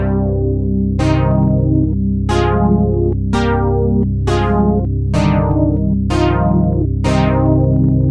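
A Roland Alpha Juno 2 analog polysynth plays a thick pulse-width-modulated preset, eight loud, evenly spaced chord stabs with bright attacks over a sustained, shimmering bass drone, with no talk.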